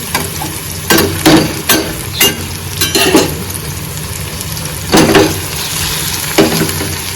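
Rice roasting in a pan for egg rice crackles with a continuous sizzle, broken by repeated sharp scraping strokes of a spatula stirring it up close.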